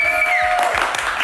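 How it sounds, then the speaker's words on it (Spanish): A burst of applause from a crowd, brisk clapping throughout with a steady whistle-like tone early on. "Un aplauso para ellos."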